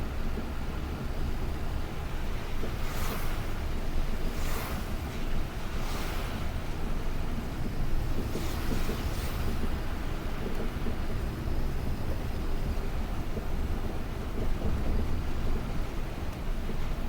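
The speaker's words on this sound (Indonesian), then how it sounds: "Kondisinya hujan ya teman-teman." Steady rain hisses during an evening drive through a sugarcane plantation in Lampung, a dense continuous wash with occasional louder bursts, loud and unbroken throughout.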